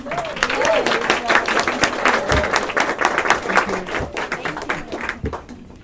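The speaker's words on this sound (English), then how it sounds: "Give a round of applause again." Audience applause at a film competition's opening remarks, a lively burst of many people clapping with distinct sharp hand claps close by, sustained throughout and thinning slightly near the end, with some crowd voices mixed in.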